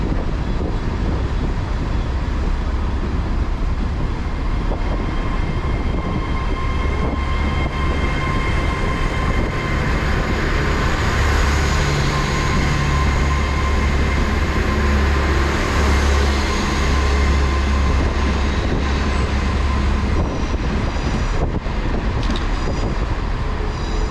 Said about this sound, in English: right now is going to be the 1003 Great Western Railway service to Oxford